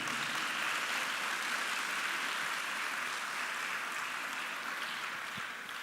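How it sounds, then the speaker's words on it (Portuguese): A congregation applauds during a church service, a dense, sustained wash of clapping that fades slightly toward the end. "Vamos aplaudir o Elvis, por favor."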